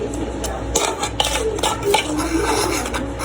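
A fork stirring bolinho de chuva batter in a bowl, with close, continuous scraping and clinking of metal against the bowl.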